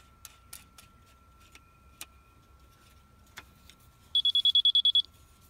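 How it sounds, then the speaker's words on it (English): A laser level receiver beeping at grade on a job site: a rapid series of about eight short, bright electronic beeps, preceded by quiet background with scattered clicks and taps. "it's gonna beep when it's at grade."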